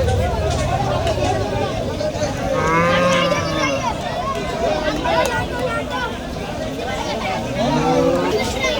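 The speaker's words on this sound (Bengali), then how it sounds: "একের পর এক গরু নামতেছে" Cattle moo repeatedly at the Kalir Bazar Eid al-Adha cattle market in Cumilla, Bangladesh, the drawn-out lowing rising over constant crowd chatter and market bustle.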